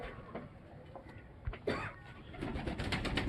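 A prized flying pigeon kept by a pigeon fancier cooing softly in a few low calls, with faint background noise and a brief murmur of voices.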